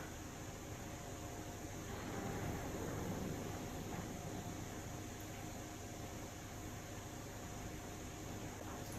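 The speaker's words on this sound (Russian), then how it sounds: "Так, холодильник, не издавай таких звуков" A low, steady mechanical hum with faint tonal whine, quiet and continuous, like a refrigerator running in a still room.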